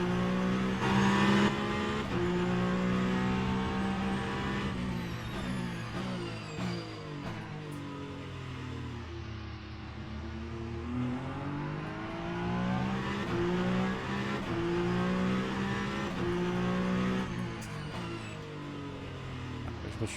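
A Peugeot 9X8 hypercar races in the Le Mans Ultimate game at Bahrain, its engine note rising and falling through steady revving shifts and downshifts, loud and continuous without talk.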